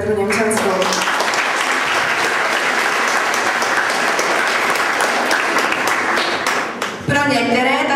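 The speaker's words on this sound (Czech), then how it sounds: "Prosím, potlesk pro pančelku Petru Němčanskou." A crowd in a school auditorium applauds a departing English teacher at a ninth-grade farewell, a loud sustained burst of clapping with voices at the start and end.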